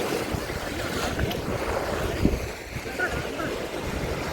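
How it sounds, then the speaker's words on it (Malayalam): Waves washing up on St Andrews beach, a steady broadband rush of surf with heavy wind buffeting the microphone throughout, and a brief splash partway through. "ഞാനിപ്പോൾ ബീച്ചിലാണ്. അയ്യോ വെള്ളം വന്നു."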